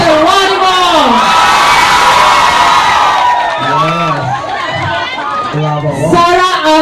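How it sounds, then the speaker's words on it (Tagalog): A large crowd at a concert party screams and whoops loudly, voices rising and falling in excited cheers, with an announcer's voice in Filipino mixed into the roar. "sabay-sabay po nating hiyawan at palakpakan"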